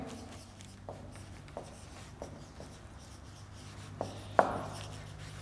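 A pen or pencil writes on paper with faint, soft scratching strokes and a few light taps, quiet and close, in an otherwise calm room.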